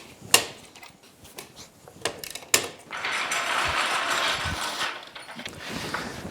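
A hand ratchet clicks and cranks on the lug nuts of a Polaris Ranger 800 Crew UTV: several loud, uneven snaps and pawl clicks, then a steady rapid ratcheting whir running for a few seconds, close by.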